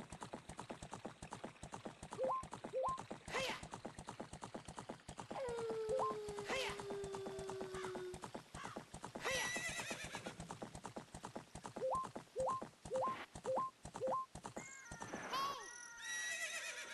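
A horse galloping in Zelda: Ocarina of Time, a rapid, steady clip-clop of hooves running throughout, broken by a couple of loud whinnies and chiming game tones, with no talk.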